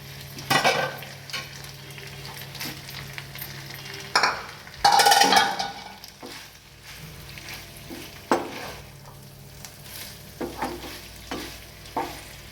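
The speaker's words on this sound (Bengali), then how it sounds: "এবার ভেজে রাখা পনিরটা দিয়ে দিচ্ছি" Mixed vegetables and fried paneer stir-fried in hot oil for a festive mixed veg curry, with a steady sizzle, repeated scraping stirs and a loud burst of frying midway, sounding close and alone.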